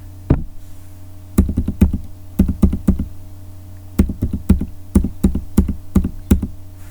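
Keys clacking on a computer keyboard as a library card number is entered into a sign-in field, in quick bursts of crisp taps separated by short pauses, close and clear over a steady low hum, with no talking.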